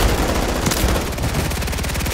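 In Call of Duty: Modern Warfare 3 Warzone, close, loud shots crack out in a fast, steady string, filling the short moment with dense repeated blasts.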